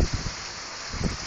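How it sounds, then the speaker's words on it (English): Heavy rain from a thunderstorm pours down at a pumpkin patch, a dense, even hiss of falling water heard up close, with a few gusty bursts and no talking. "Rain bands."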